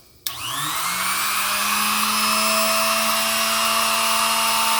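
An Ilco Orion KD94 tubular key duplicator spins up with a sharp start and a rising whine, then settles into a steady, loud, close motor drone while cutting a key, with no talk.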